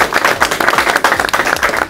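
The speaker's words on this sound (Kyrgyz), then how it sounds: "Анда команда бир колдоп кол чаап коебуз." Audience at a school quiz game show applauds a lyceum team, a brief burst of brisk, close crowd clapping filling the whole moment.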